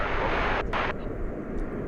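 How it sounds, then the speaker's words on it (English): A Boeing 787 Dreamliner taxiing toward a runway crossing at DFW Airport, heard as a steady, loud, broadband jet engine roar from a moderate distance with no one speaking over it. "there's that Dreamliner getting ready to cross the runway."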